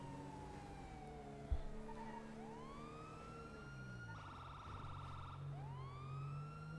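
A wailing police siren in GTA 5 rises and falls repeatedly over a steady low engine-like drone, with a brief thump early on; no voices.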